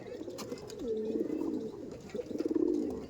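Punjab breed pigeons coo in soft, rolling bursts, close by and fairly quiet, with a low ambient hum beneath.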